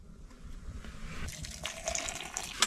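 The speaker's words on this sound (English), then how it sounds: "I use the rest of the boiling water to thaw out my water bottle." Boiling water poured onto a frozen water bottle outdoors, a short gushing, splashing pour that grows louder and ends with a few bright clinks.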